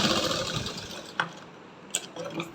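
A sewing machine stitches along the hem of a salwar leg, its steady whirring run loud at first and then easing down, with a couple of small clicks near the end.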